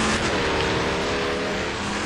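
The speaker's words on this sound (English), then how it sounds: "I can hear Roland's car going into La Source" Race car engine droning steadily as it heads into the La Source hairpin at Spa during a club touring car race, a continuous loud motor tone held without a break and no voices.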